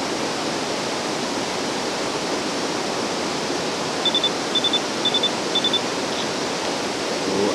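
A small screenless camera gives a run of four short double beeps in the second half, heard over a steady broad wash of noise on a foggy riverside morning by the River Avon.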